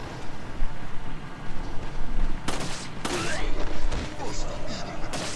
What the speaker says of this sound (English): go ahead and shoot that guy